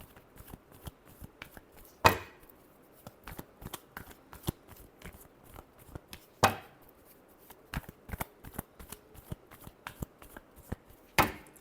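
Tarot cards being shuffled by hand in repeated riffling bursts, crisp close flicks and slaps with several louder snaps, no voices.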